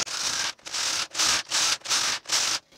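Brother KH260 knitting machine carriage sliding back and forth across the bed while slip-knitting a punchcard pattern, giving six loud, even rasping swishes about half a second apart, each separated by a brief pause, with no voices.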